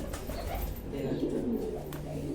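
Competition racing pigeons coo softly in low, throaty murmurs, close by, with a faint voice and background noise.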